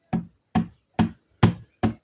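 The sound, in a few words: ink stamp pressed onto paper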